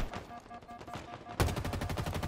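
Gunfire in the Halo Infinite multiplayer game on the Bazaar map, a rapid rattling burst of shots that swells sharply louder halfway through.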